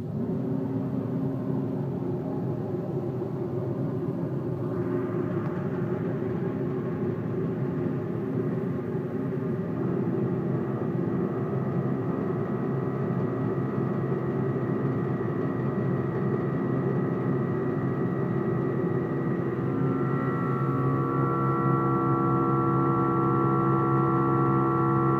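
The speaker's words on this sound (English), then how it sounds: "We'll go ahead and turn on the blower." The blower of a vibration shaker test table runs with a steady, loud mechanical drone and hum, holding constant with a slight tonal shift near the end.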